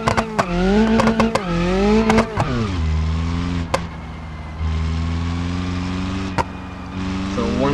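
A car in the driving game BeamNG.drive runs a lap of a track, its engine droning and repeatedly revving up and dropping back, with a few brief tire squeals, loud and close throughout; someone talks over it.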